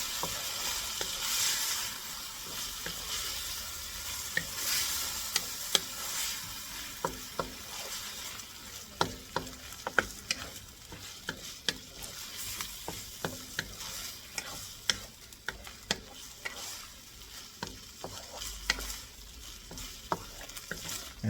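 Head-on shrimp stir-frying in a pan for pancit bihon, a steady close sizzle broken by frequent sharp scrapes and clicks of a utensil stirring against the pan, with no voices.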